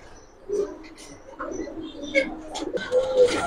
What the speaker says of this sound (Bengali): বাংলা মানে গোলা কবুতর, কিন্তু অনেক সুন্দর